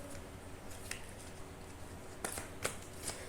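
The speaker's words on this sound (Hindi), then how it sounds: "और कार्ड शफल कर लेते हैं।" Tarot cards are being shuffled close by, a soft papery riffle with a few sharper snaps near the end, fairly quiet over a steady background hiss.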